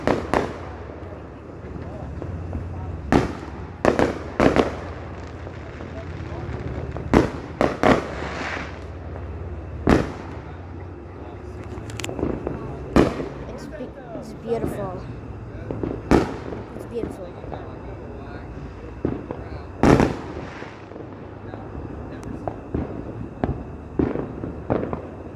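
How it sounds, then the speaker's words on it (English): Fourth of July fireworks bursting on all sides, sharp booms and crackling pops recurring irregularly, some near and loud, others farther off, with faint voices in the background. "I hear fireworks all over."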